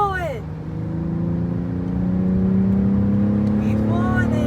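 BMW X6 in sport mode accelerating on a road, a steady engine drone rising slowly in pitch, heard from inside the cabin with light talk at the start and end.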